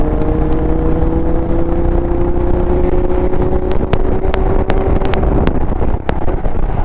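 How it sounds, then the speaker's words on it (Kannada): A motorcycle engine drones steadily while riding on a return trip from Coorg, loud and close with a sustained hum, wind rush and a few sharp clicks near the end. "ನನ್ನ ಬೈಕ್ ಹೋಗ್ಬೇಕಾದ್ರೆ ಅದ್ರ ಸೌಂಡ್ ಕೇಳೋ ಖುಷಿನೇ ಬೇರೆ ಗುರು"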